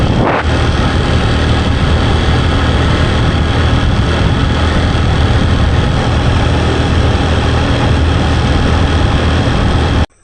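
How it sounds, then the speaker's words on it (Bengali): Motorbike engine while riding on a rural road in Bangladesh, a loud steady droning rumble with wind buffeting, continuous and unbroken until an abrupt stop. "রিজয় হাসানের বাড়িতে আমরা যাচ্ছি এখন এই মোটর বাইক নিয়ে"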